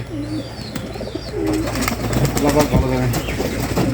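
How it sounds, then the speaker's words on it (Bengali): Beauty Homa pigeons coo at their coop before dusk. Several soft, throaty coos repeat close by, mixed with faint chirps and someone talking over them. "কবুতরগুলো আস্তে আস্তে খোপে ঢুকার চেষ্টা করতেছে"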